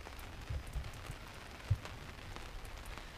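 Steady rain patters on a tent awning at a beach camp in the woods, a soft continuous hiss with a few faint isolated drops and low thuds standing out.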